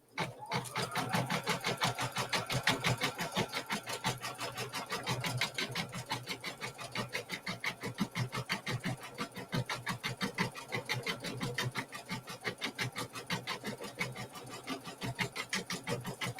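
Sewing machine stitching quilt fabric, a fast, steady mechanical chatter of the needle running continuously and close up, with no talking.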